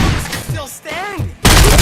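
A loud burst of gunfire erupts near the end of a short stretch of in-game shouting in the RoboCop video game, dense and harsh after voices speak.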